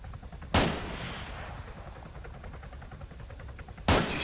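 Two sharp, loud gunshots in a shooting video game, spaced a few seconds apart, each with a short ringing tail, and a low rumbling game background between them.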